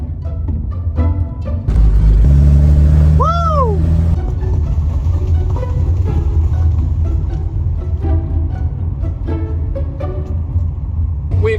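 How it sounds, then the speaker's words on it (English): Hire car engine pulling away, a steady low rumble running throughout with a brief rising tone and scattered clicks and knocks from the cabin. "We've set off in the car."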